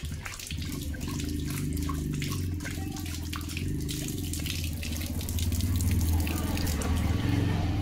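Leo, a German Shepherd, laps up water close by in a steady, continuous wet stream of sound that grows slightly louder toward the end.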